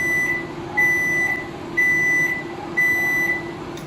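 A homemade UVC sterilizer box beeping: four steady high-pitched tones, each lasting about half a second, repeating at an even one-second interval over a constant fan-like hum, close and fairly loud.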